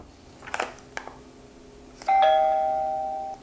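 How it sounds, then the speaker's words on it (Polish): A Xiaomi Doorbell 2 Lite chime rings out after a few faint knocks and taps, sounding one clear electronic tone that holds and slowly fades, close and fairly loud. "no to macie taki dzwoneczek, który tyle robi"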